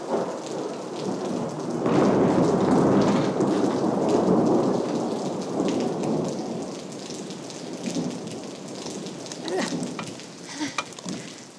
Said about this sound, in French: C'est sous la pluie, c'est galère.